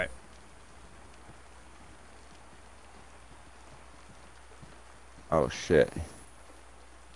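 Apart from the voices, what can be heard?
rain in a video game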